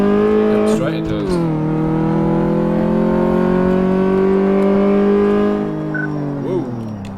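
A car engine in Car Mechanic Simulator drones steadily during a test drive on a track, a loud sustained hum with small pitch shifts as it revs.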